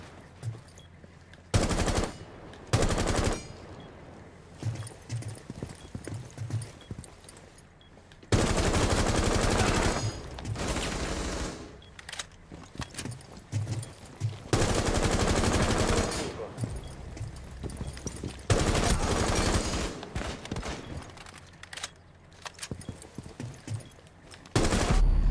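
Gunfire in a video game match comes as repeated loud bursts of rapid machine-gun fire, separated by quieter gaps, with an excited player talking over it.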